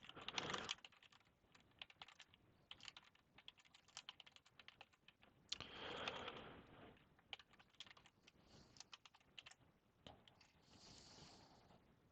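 Keyboard typing, fairly quiet and close, in an irregular patter of keystrokes with short pauses and a couple of louder bursts, with no talking.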